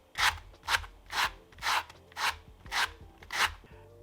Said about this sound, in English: I am actually going to take some sandpaper and smooth down the edge.